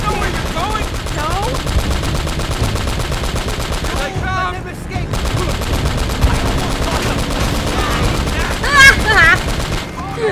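Sustained automatic gunfire from Uncharted: Drake's Fortune, with rapid bursts rattling almost continuously across the whole stretch and someone talking over parts of it.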